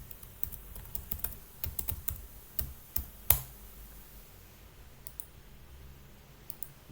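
Someone renames a file in a simulation program by typing on a computer keyboard, making a quick run of close, light key clicks that ends in one sharper tap, followed by near silence with a few scattered clicks.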